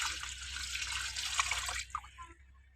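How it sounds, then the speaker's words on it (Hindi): About a jug of water poured into a cooking pot of meat and onions for chicken yakhni, a bright continuous splashing gush for nearly two seconds, tapering to a few drips. "अब 1 जग पानी लगा देना है।"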